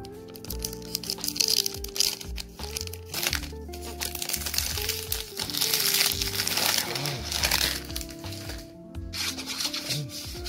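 Packaging of Afnan Supremacy Not Only Intense perfume is unwrapped, with continuous loud crinkling, crumpling and rustling of plastic and box material close up for about ten seconds, broken by occasional sharp cracks.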